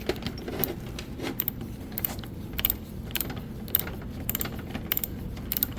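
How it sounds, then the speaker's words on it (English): A torque wrench being wound back down to zero, a close series of dry ratcheting clicks in uneven bursts, with no talk. "but back off on your torque wrenches"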